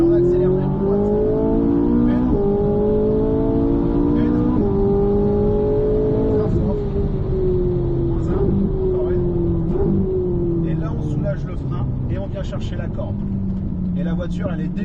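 A race car accelerates out of a corner, its loud engine droning close and steady at high revs with shifting pitch, while a voice talks over it.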